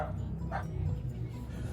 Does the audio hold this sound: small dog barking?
yes